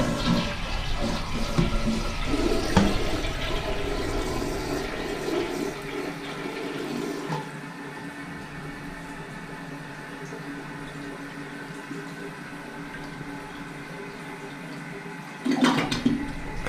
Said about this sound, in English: kind of slow to flush, but it flushes.